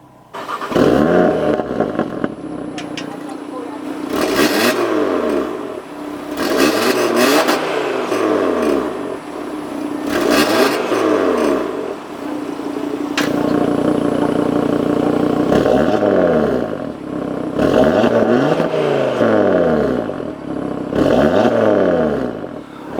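A 2018 Audi TT-RS engine fires up and is revved repeatedly up close, each loud sweeping rise and fall of the exhaust note separated by brief idle, roughly six to seven blips over a sustained stretch.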